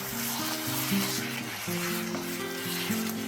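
Tomato pulp poured into a hot pan of spiced minced beef and chickpea curry sets off a steady, close sizzle and frying crackle, with faint background music underneath.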